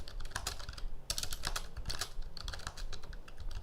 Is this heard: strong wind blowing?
no